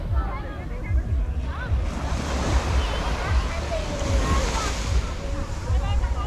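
Ocean waves wash steadily onto Dadonghai Beach in Sanya, a continuous broad surf hiss with gentle swells, and faint voices and distant activity in the background.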